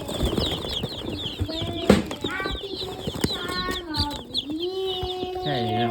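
Chickens on a farm cluck and chirp close by in a busy, overlapping chorus with rising peeps and calls, while people talk over them.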